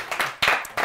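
An audience claps for the AMWater Actify presentation, a short burst of several sharp, close handclaps in an uneven rhythm.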